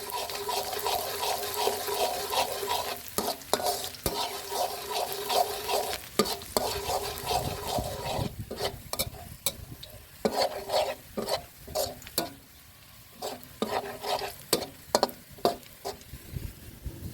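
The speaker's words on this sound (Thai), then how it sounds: "แล้วก็นำกระเทียมสับเป็นกระเทียมไทยหนึ่งหัวครับผม ลงไปผัดให้เหลืองหอมก่อนครับ" Chopped Thai garlic frying in a little vegetable oil, a steady sizzle with repeated scraping stir strokes across the pan, continuous and close, with no voices.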